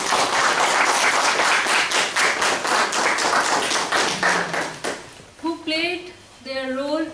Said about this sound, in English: Now let's have a big round of applause for all the 4 supplementary role players